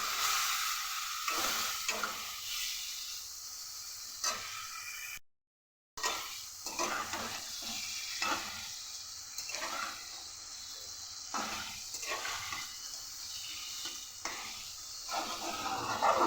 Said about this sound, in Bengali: এবার ভালো করে মশলাটাকে কষাবো